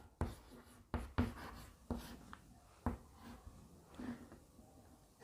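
Chalk or marker scratching out words on a classroom board, a series of short separate strokes and taps with pauses between, close and fairly quiet, no voice over it.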